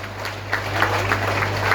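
An audience at a spiritual gathering claps together in a dense, continuous patter of hands, steady and fairly close throughout.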